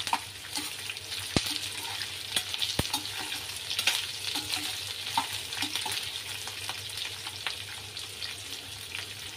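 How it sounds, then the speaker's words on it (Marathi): Capsicum being sautéed in a pan for chicken chilli, with a steady close sizzle and intermittent scraping stirs over about nine seconds, no voices. "त्याच्यानंतर ताबडतोब आपल्याला लगेचच शिमला मिरची घालायची आणि थोडंसं परतवून घ्यायचं आहे."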